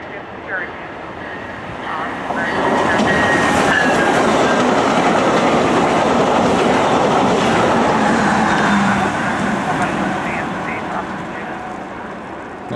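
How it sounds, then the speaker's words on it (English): A fast Via Rail passenger train roars past a railroad crossing, its loud rumble and wheel clatter swelling after a couple of seconds, holding steady with faint squeals, then easing slightly as the cars keep rolling by. "That's a fast come and go train. No, that's a Via Rail."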